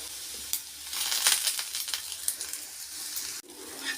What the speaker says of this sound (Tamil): இந்த மாதிரி உருளைக்கிழங்கு நம்ம நல்லா கிளறி விடலாம்.